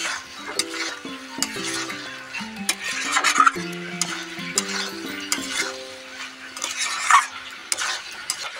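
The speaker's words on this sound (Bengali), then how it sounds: "দিয়ে এঁচোড়ের সাথে মশলাটা ভালো করে কষিয়ে নেব, যাতে এঁচোড়ের ভেতর মশলাটা ঢুকে যায়।" Raw jackfruit pieces are stirred with spice masala in a pan, making a soft, intermittent sizzle with scraping strokes and a few sharper clinks of utensil on metal, set against quiet background music.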